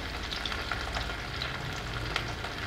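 Onions frying over low heat in a pan, a steady close sizzle with faint crackles and occasional stirring scrapes, no voices.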